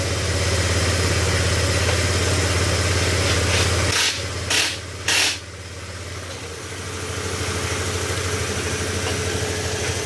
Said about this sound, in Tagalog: Pwede na daw paandalin para makita natin kung maingay pa rin ba yung kanyang makina